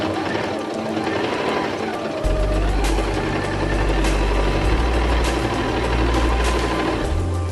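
A Singer 8280 sewing machine stitches with a steady, fast mechanical whir and low hum that starts partway in and runs continuously, close and fairly loud, with faint clicks on top.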